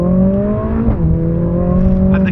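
2020 Mercedes-AMG A 45 S 4MATIC+ in Sport Plus, engine roaring loudly from inside the car with a quick shift dip midway and climbing revs, plus faint crackles near the end.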